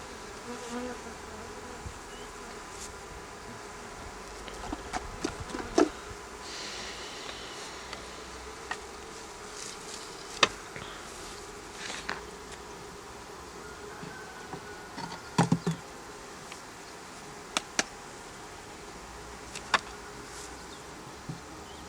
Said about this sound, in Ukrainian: Оце весь рій.